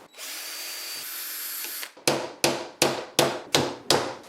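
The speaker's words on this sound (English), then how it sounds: "I'm just going to drill some pilot holes and attach some of these finish nails." A power drill whirs steadily while boring pilot holes in a wooden frame, then a hammer drives finish nails with six sharp, evenly spaced blows, loud and close, with no talking.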